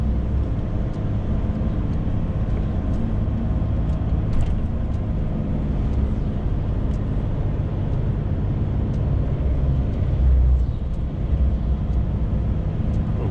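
A Scania truck engine rumbles steadily in eighth gear while descending a mountain road. The low, dense drone holds constant and loud throughout, with faint clicks and rattles on top.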